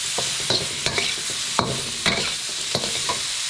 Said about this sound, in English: now let's add in the potatoes. Stir fry that a little bit.